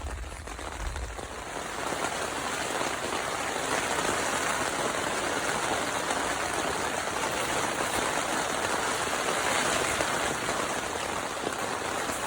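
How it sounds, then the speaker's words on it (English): Steady rain drums on the fabric of a vintage Coleman tent at night at Porters Lake, a dense, even patter that runs loud and unbroken throughout. "You can hear the rain."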